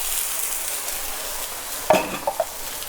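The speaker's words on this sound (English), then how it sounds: "So 1 cup of boiling water into the pan." One cup of boiling water goes into a pan of lightly sweated onions over medium-high heat, giving a soft steady hiss broken by a few sharp clinks and a brief bubbling splash.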